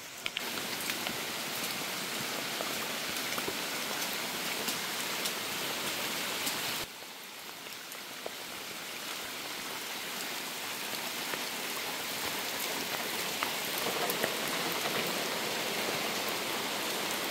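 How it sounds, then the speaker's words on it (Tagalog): Steady rain from a typhoon falling on surfaces, a dense continuous hiss with scattered drops, slightly softer after a brief break partway through; no voices. "So kahit pa paano naman hindi ganong kalakas yung tawag dito, yung ulan."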